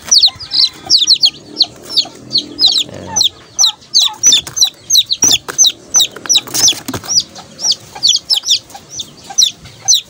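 Chickens and newly hatched chicks fill the space with rapid, high peeping and soft clucking, a dense, continuous chorus of chirps close by.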